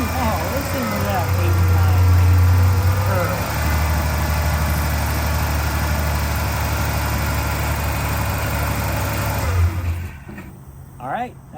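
A Ford Ranger pickup idling just after a battery replacement, starting with a brief rev, then a steady close engine idle that drops off near the end, with people talking over it.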